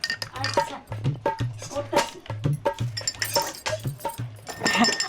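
Glasses and spoons clinking while sherbet is stirred at home, bright rapid metallic taps in quick repeated runs, close and loud, with people talking over them.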